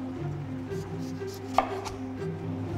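A knife cuts celeriac on a board in a kitchen, with soft chopping strokes and one crisp sharper cut in the middle, quiet and close, with no talking.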